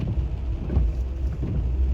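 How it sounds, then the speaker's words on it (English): Rain falling outdoors in Floral City, Florida, as a dense steady wash with low rumbling underneath, loud and continuous with no talk. "It's raining."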